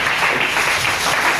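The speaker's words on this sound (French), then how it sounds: "Est-ce qu'on peut acclamer pour la parole?" Short burst of steady applause from a church congregation at a Sunday service, dense and even for its whole brief length.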